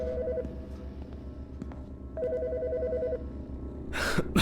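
A telephone rings in the video game Autopsy Simulator: two trilling electronic ring bursts separated by a pause over a low hum, then a short noisy burst at the end.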